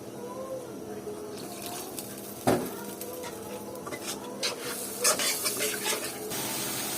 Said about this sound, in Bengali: এগুলো সব একসাথে মিক্স করে ভালোভাবে কষিয়ে নিতে হবে